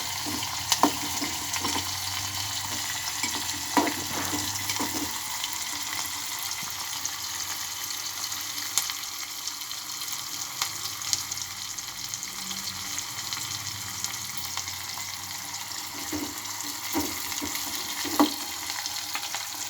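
Onions frying in a pan for vegetable upma, a steady close sizzle running throughout with occasional stirring clicks and scrapes, no talking.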